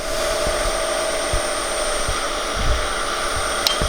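Woodturning lathe shaping a funnel into a pedestal bowl as the tool takes a pass in toward the tenon, a loud steady whirring drone with faint scraping and a few soft knocks, no voices.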